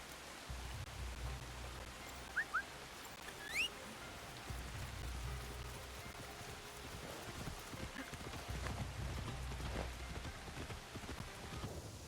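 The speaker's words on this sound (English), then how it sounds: "Okay, we'll jump on our horse." Horse hooves clip-clop softly and steadily while riding in Assassin's Creed Shadows, faint and distant under a rain-like ambient hiss.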